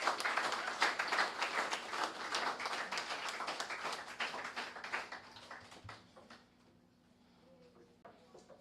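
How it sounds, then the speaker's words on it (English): An audience at a national debate winner announcement applauds a debater named Koshai, a dense spread of clapping that gradually thins and fades over several seconds, distant and soft. "Let's give Koshai a big round of applause."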